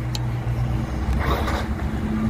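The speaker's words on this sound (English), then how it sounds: "We'll let this car go on by real quick." A car passes through a parking lot, a steady engine drone rising into a broader wash of tyre and motor noise midway before easing off, close by and fairly loud.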